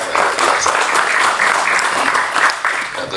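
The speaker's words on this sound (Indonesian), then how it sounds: "Tepuk tangan buat panitia." Audience at the closing ceremony of the 2025 Piala Presiden media competition claps for the organizing committee, a full, close burst of hand clapping that holds steady and then eases slightly.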